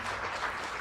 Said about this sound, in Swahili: Makofi mengi, hayo hayatoshi